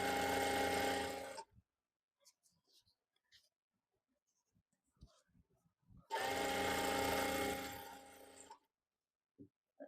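A sewing machine stitches an Afghani trouser in two close bursts, each a rapid, steady mechanical whirr lasting over a second. Between the bursts come quiet fabric handling and small clicks.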